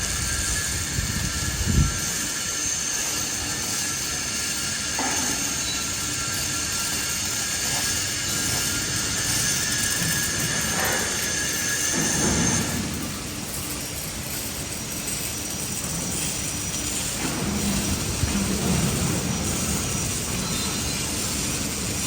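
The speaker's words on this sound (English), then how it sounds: "This is the plate chain scraper conveyor." A plate chain scraper conveyor, a welded drag chain unit about 3.5 meters high for moving fertilizer, runs with a steady dense mechanical rumble and metallic rattling, with occasional louder clanks and squeals.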